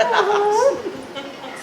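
At a furry convention, a person imitates a dog bark with a single close, short voiced yelp that rises and falls in pitch, followed by a quiet pause.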